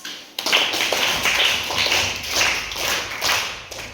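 A classroom group of people clapping together for several seconds, a dense, steady patter of hand claps close by.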